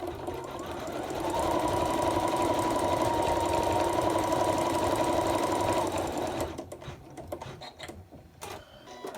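An embroidery machine stitches black eyebrows onto a gingerbread boy tree hanger with a loud, fast, steady mechanical whirr for about six seconds, then slows and stops with a few scattered clicks and knocks.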